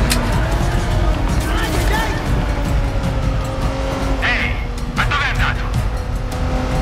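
A car driven fast in Watch Dogs 2, engine droning steadily with brief tire squeals partway through, loud and continuous under game sounds.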